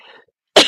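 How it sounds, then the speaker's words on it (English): A single sharp cough bursts out near the end, loud and close, after a faint trailing breath and a short silence. "Excuse my coughing."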